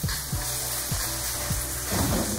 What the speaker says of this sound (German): ein bisschen anzubraten, das Tomatenmark, mit ein bisschen Öl